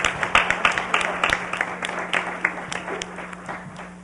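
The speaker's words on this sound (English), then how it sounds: "can we applaud them?" Audience applause following an essay contest presentation at a spouses' event, a steady patter of scattered clapping from a room-sized crowd, moderately loud and even, with no one speaking over it.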